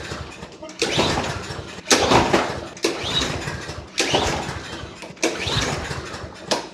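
Repeated attempts to start an old small engine that was given away free, its carburetor worn out: four bursts of cranking and sputtering, each around a second long, separated by brief pauses, loud and close.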